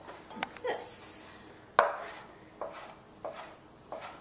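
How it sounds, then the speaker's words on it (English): Knife chopping soaked, squeezed tomatoes on a board for a tabbouli wrap, a few sharp close cuts followed by a slower series of soft, spaced chops. "After I soak the tomatoes, I squeeze them out. And then I chop them"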